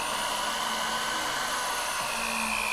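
A drill press boring through a workpiece just as the bit starts to poke out the far side, a steady close-up mechanical whine with a droning motor tone that holds throughout.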